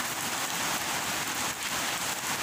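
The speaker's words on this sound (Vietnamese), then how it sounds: "hôm nay mình đang mưa, đang to luôn bạn" Heavy rain pouring steadily in a rural Vietnamese setting, a dense continuous hiss of drops on surfaces with no voices.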